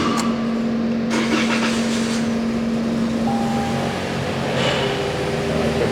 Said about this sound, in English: Vehicle has started.